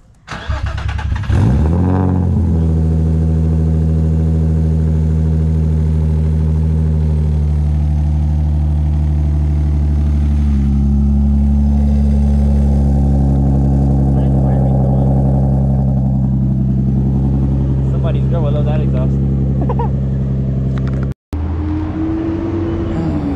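A car engine cold-starts after sitting for about five or six hours, catching with a quick crank, then settling into a steady, loud idle with a slight shift in pitch partway through, while people talk over it.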